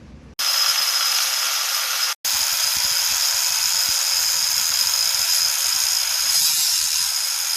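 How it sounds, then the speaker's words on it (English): Power tool cutting a small metal spacer piece while modifying a Tillotson 212cc engine, a loud steady high-pitched whine with a brief stop and restart, close and continuous. "I'm just going to cut a small piece off of here and then weld those on"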